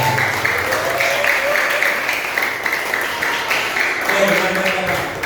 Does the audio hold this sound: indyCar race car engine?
no